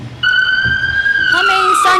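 A loud ambulance siren sounds during a school annual-day play: a steady, piercing electronic wail that shifts pitch partway through and is heard up close.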